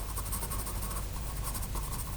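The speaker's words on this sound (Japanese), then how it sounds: "でこれであんまり力を入れずに、この水彩紙のボコボコを利用しながら描いてみてる感じです。" A pencil shades lightly across textured, bumpy watercolor paper for a dinosaur sketch, making a continuous close, soft scratching that rises and falls with each stroke.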